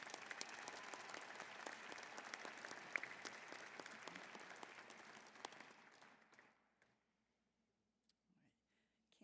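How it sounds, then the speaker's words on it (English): An audience applauds graduating scholars at a December undergraduate commencement ceremony, dense clapping that holds steady for about six seconds and then trails off into near silence, with a few scattered claps at the end. "Let's give another round of applause for these scholars"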